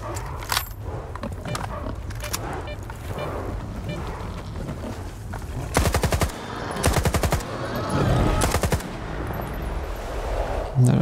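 Gunfire from a weak weapon in the STALKER 2 video game: several short, rattling automatic bursts cutting in sharply over a busy ambient background, fairly loud and close, with someone talking between them.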